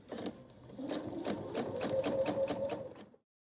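A sewing machine stitches a braided quilted table runner in one steady rapid run of clicking and whirring lasting about three seconds, then it stops abruptly into silence.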